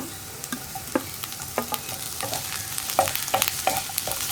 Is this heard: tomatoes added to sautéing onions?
yes